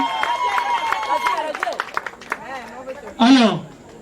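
Audience clapping and cheering for the groom Kevin at a customary wedding ceremony, a crowd burst of applause mixed with voices and chatter, swelling loudly near the end.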